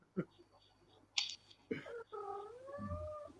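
A cat meows and caterwauls nearby in several short calls, the last one a drawn-out wavering yowl, over faint room noise.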